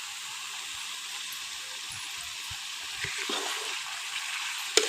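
Water poured into browned frying masala for a mutton curry, a sustained sizzling hiss with a few soft bubbling pops and a brief clink near the end, close and fairly quiet.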